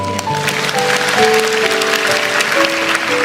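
A church congregation claps together under sustained organ or keyboard chords, the applause dense and steady throughout.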